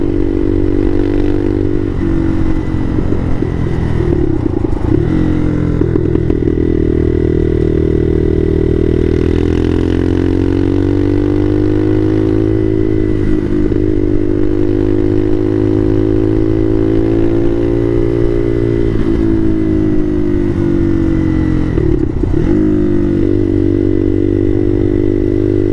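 A Bashan Motomax 250 motorcycle fitted with a Nibbi PE30mm carburetor rides steadily, its loud, close engine drone rising and falling through gear changes for the whole stretch, with no talking.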